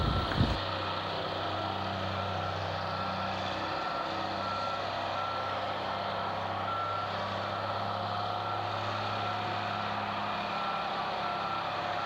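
A piggybacker, a large container-handling machine at a rail yard, beeps steadily as it reverses, with a repeating backup alarm over a continuous heavy diesel drone, after a brief clunk at the start.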